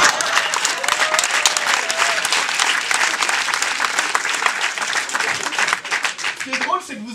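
A comedy show audience breaks into dense, loud, sustained applause that fills the room, tapering slightly near the end as a voice starts to come through.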